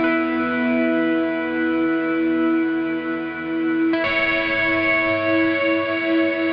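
An electric guitar through two reverbs and a chorus-vibrato effect sustains a chord with a wavering shimmer, then a fresh chord is struck midway; no voices.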